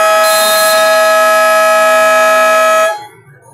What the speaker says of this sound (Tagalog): Buzzer na lang maririnig ninyo.